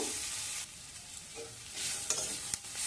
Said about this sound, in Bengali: হালকা আঁচে পেঁয়াজটা একটু নরম করে নেব